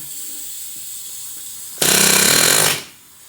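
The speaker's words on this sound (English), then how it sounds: "The vibrations of the air chisel should pop it out of there." An air chisel hammers on a corroded ball joint to vibrate it out of the steering knuckle of a Lincoln Mark VIII. A loud, rapid pneumatic rattle bursts in for about a second over a low hum, then cuts off.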